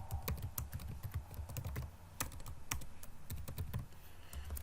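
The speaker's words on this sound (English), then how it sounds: "I'm going to type my name." A name being typed on a computer keyboard in Microsoft Word, a quick run of close, crisp key clicks with short irregular pauses, no voices.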